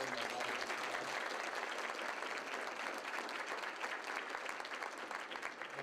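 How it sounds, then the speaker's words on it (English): Sustained audience applause at a university school's 80th anniversary event, a dense steady wash of many hands clapping at even loudness throughout, with no voices standing out. "could you give them a round of applause?"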